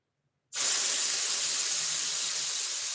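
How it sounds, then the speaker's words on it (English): Aerosol can of silicone spray hissing in one steady, loud burst that starts abruptly and holds for about two and a half seconds, close to the listener with no talking. "we're going to have to get the old silicone spray out right here and on the other side too"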